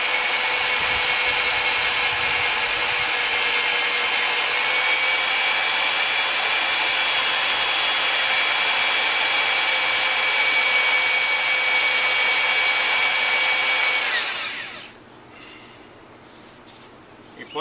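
An electric drill bores through metal with a sharp, lubricated bit while a flagpole tilt holder is fabricated, giving a steady loud high whine for about fourteen seconds before spinning down and stopping, with no talk.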